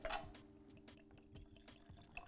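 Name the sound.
bourbon pouring from a newly opened bottle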